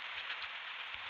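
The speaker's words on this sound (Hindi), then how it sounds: "यहाँ पर बारिश भी चालू हो चुका है" Steady rain falls in the open-world survival video game Crisis X, a continuous even hiss of drops hitting the ground with no voices over it.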